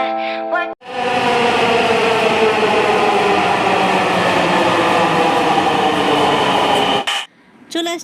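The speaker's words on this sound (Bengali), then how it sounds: "চলে আসছে আমাদের মেট্রো, আমরা উঠে পড়লাম" A Dhaka metro train arrives at the station with a loud, sustained rushing rumble and a whining hum, bracketed by brief speech at the start and a short bit of talk after it fades.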